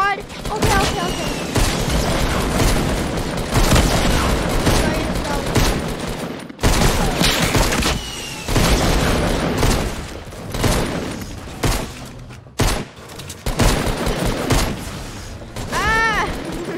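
Dense video-game gunfire rattles in continuous bursts of automatic fire and booms, loud and close, with short gaps, while a player reacts aloud over the shooting.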